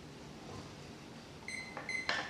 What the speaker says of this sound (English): And I'm going to set our timer here for 2 minutes